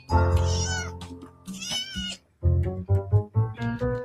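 A pet cat named Luffy meows repeatedly up close: a string of loud, drawn-out, wavering cries with short pauses between them, with no talking over them.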